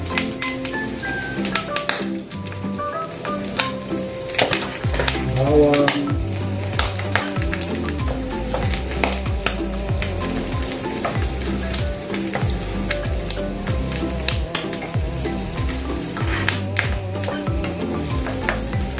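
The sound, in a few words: garlic frying in hot oil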